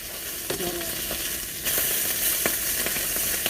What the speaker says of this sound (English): Got our sausage browning away here.